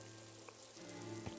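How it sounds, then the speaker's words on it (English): Pouring rain falls as a steady, faint hiss under soft sustained musical tones, continuous and even throughout. "they all leave Midoriya under the pouring rain"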